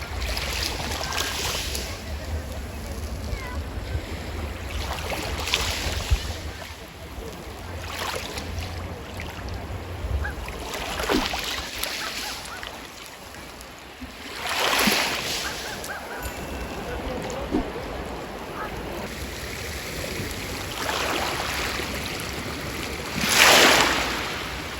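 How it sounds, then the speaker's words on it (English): Sea waves wash against the shore at Incekum, Alanya, in repeated surges, with steady wind rushing over the microphone between the louder breaking swells. "I leave you alone with the magnificent sound of the sea."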